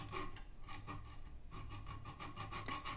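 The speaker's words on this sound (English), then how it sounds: "First I'm cutting half of a 10 mm screw head to get flat anvil surface." A handsaw cuts halfway through the head of a 10 mm screw, a quick, even series of rasping back-and-forth strokes, close and fairly quiet, with no voices.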